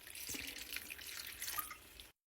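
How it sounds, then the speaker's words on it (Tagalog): Water splashes into a hot pan of frying pancit canton vegetables with soy sauce and fish sauce, giving a short close hissing, sizzling pour that stops abruptly. "lagyan natin ng konting tubig"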